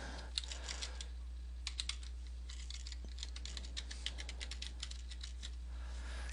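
Keys on a computer keyboard are tapped in quick irregular bursts while a login ID and password are entered, a soft clatter that stops and starts over a steady low hum, with no talking.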